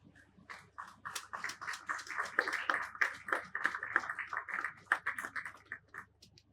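Modest applause at an appreciation award ceremony honouring an absent recipient: a small audience claps in a steady, moderately quiet patter of distinct hand claps that builds and then tapers off.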